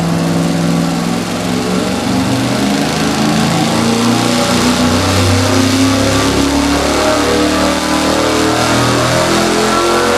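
A carbureted V8 engine runs hard on a dynamometer during a carburetor-size test, a loud, continuous revving roar that holds without a break.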